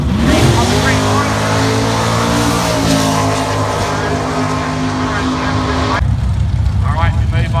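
A street drag race car idles at the start line of a Sunday street drags meet, its engine giving a loud, steady, throbbing rumble that runs throughout while a commentator talks over it.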